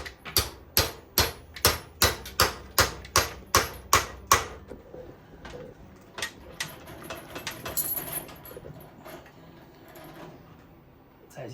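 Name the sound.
hammering a punch through a hole, then testing with a bolt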